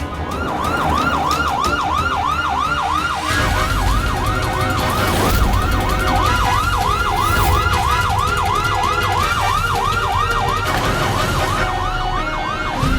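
A police siren wails loudly and continuously in rapid rising-and-falling cycles near a residential housing society, with traffic rumble underneath and no talking.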